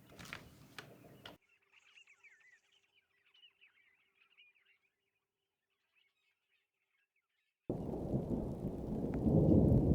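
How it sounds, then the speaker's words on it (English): A brief burst of noise gives way to a quiet stretch with faint chirping, then a loud, deep rumble of thunder breaks in with rain at sunset in the Kgalagadi wilderness. "it captured the start of a thunderstorm"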